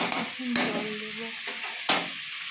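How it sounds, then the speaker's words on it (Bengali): Water goes into fried spice paste for an egg curry, setting off a loud, close sizzle with sharp bursts of hissing and some stirring or clinking of the pan. "এই দেখো জল দিয়ে দিলাম।"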